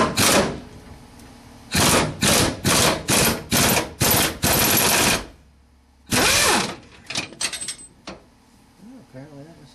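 An impact tool loosens fuel tank bolts on a 1997-2007 Ford Taurus, sounding as a series of loud rapid bursts, about seven in quick succession, then another burst, with faint clinks and a brief voice near the end.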